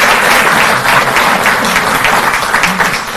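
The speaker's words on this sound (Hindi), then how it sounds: "जोरदार तालियां बजें" Loud, dense applause fills the space at a farmers' gathering in Delhi, a crowd clapping steadily and close for the whole stretch.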